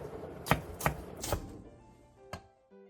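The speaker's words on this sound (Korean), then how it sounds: "청양고추 2개와 홍고추 반 개를 길게 반으로 가른 뒤 쫑쫑 썰어주세요." A knife chops through cheongyang and red chili peppers on a cutting board: three quick, close, sharp chops about half a second apart, then a pause and one more chop, followed by faint clatter.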